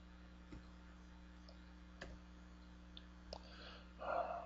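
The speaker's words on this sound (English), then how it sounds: "Bad typing day here." Scattered keystrokes on a computer keyboard tap out in the quiet, four or five sparse clicks over a low steady hum, with a faint rustle near the end, during Excel calculations.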